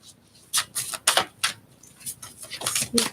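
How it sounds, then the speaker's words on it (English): Tarot cards being shuffled for a weekly Gemini reading, a run of short papery riffles and taps in uneven bursts, close and fairly quiet, with no talking. "We'll shuffle."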